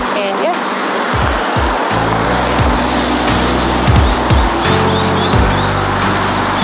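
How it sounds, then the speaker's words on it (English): Street traffic at an urban building site, with passing vehicles rumbling and swishing by in a loud, continuous wash of noise, and a person talking over it. "the traffic is quite dangerous down here"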